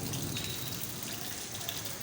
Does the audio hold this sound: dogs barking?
no